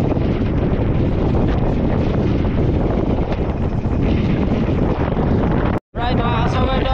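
Strong wind at sea near fishing boats roars as a constant, heavy rumble buffeting the microphone, broken by a brief cut before a voice starts talking.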